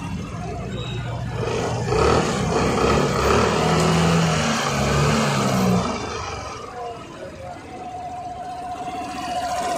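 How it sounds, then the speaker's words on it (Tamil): A Suzuki Avenis BS6 scooter engine runs close by after an idle-speed adjustment, with a rough, loud roar that eases and settles into a steadier, quieter idle drone. "ஓகே, ஸ்லோ வந்து பக்காவாக நிற்கிது."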